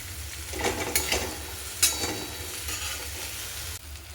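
Paneer bhurji masala with salt, red chilli powder and coriander sizzles in a pan while a spatula scrapes and stirs it now and then, steady frying close up with a couple of sharper clinks.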